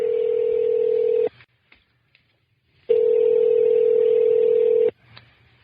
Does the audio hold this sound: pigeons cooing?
no